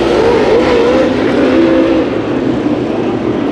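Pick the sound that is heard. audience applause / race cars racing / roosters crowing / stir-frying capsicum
race cars racing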